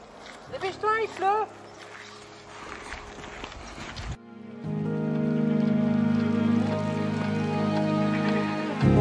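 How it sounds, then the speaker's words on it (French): Brief voices at first, then a steady, continuous wash of rain pattering on a surface that holds evenly to the end, near Denali in Alaska. "Dépêche-toi, il pleut."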